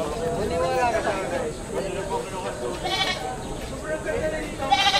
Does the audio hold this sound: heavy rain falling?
no